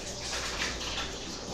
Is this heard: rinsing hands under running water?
yes